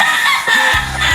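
Game fowl hens cluck in a breeding facility on a game farm: a short, close, loud burst of clucking lasting about a second.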